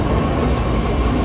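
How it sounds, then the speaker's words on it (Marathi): Pune metro train arriving during a busy Ganapati visarjan festival crowd, a loud, steady low rumble of rolling rail cars filling the station, with no clear voices over the continuous noise. "मेट्रो आली, आता आपल्याला पळत जावं लागणार."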